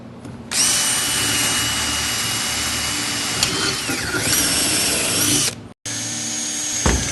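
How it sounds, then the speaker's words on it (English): Power drill boring straight through a wooden railing post for a cable railing on stairs, a loud continuous whining grind that starts abruptly, holds steady for about five seconds, cuts out, then briefly resumes. "We're going to drill straight through and just bring it straight back down to pitch."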